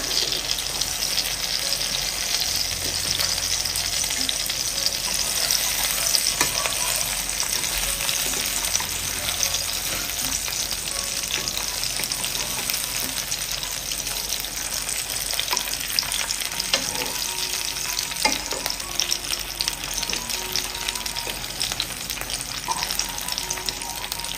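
Tomato and onion fry in hot oil in a pan, a continuous close sizzle and crackle with occasional clinks and scrapes as pieces are turned.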